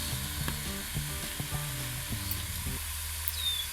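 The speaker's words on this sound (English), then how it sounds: "First, I crisped up a few pieces of bacon." Bacon crisping in a cast iron pan over a campfire, a continuous crackling sizzle with sharp pops, near and steady, alone without any talking.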